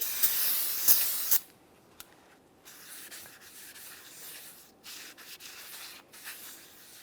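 Parts cleaner sprayed on a brake rotor of a GMC Acadia, a loud hissing burst at the start, followed by quieter rubbing and wiping with a rag, close up.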